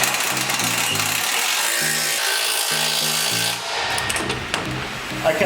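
A power drill tightens the mounting points of a Rockarmor bullbar on a 2013-2017 Toyota Prado 150 series, its motor whirring in short, stepped bursts over a rough grinding, rubbing noise, close and fairly loud, with no speech.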